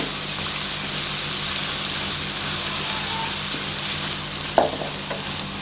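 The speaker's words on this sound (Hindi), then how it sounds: "प्याज़ों को हम गोल्डन कलर में फ्राई कर लेंगे।" Onions frying in oil until golden for an arbi leaf curry, a steady soft sizzle throughout with one brief clink of a utensil near the end.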